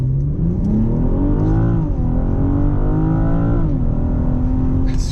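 A BMW M440i xDrive coupe's straight-six engine revs up through the gears in manual mode, loud and close from inside the cabin, its pitch climbing, dropping at each shift, then climbing again.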